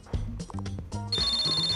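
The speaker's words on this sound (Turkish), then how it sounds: "Ama telefon çalıyor." Telephone ringing inside the Toca Life video game: a steady electronic ring tone starts about two-thirds of the way in, running over game music and sound effects.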